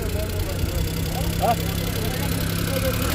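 A small car, apparently a used Daewoo Tico for sale, idles with a steady low engine rumble and hum close by, while voices talk over it.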